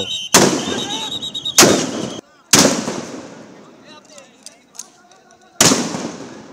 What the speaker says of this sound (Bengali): অন্য একটি দল সাউন্ড গ্রেনেড ছুটছিল আন্দোলনকারীদের লক্ষ্য করে, আর আরেকটি দল রাবার বুলেট ছুটছিল